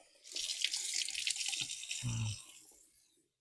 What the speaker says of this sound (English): Wash these cucumbers off.